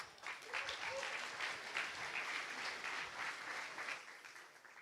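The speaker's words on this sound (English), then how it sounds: "Please give him a big round of applause." A crowd at a hackathon opening ceremony applauds steadily for several seconds, a dense, distant wash of clapping that tapers off at the end.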